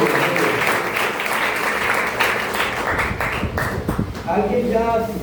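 A church congregation bursts into sustained, even applause, with loud, steady clapping filling the room throughout.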